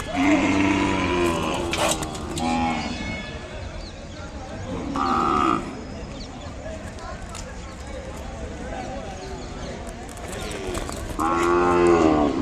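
An Ongole calf moos loudly several times, with long drawn-out calls near the start, middle and end, while someone talks over quieter stretches and faint hoof or shuffling noises sound in between.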